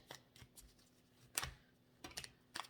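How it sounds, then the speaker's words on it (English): Tarot cards shuffled in quick, uneven bursts, several sharp riffling snaps separated by short pauses, close and fairly quiet with no talking. "It's just reckless shuffling at this point."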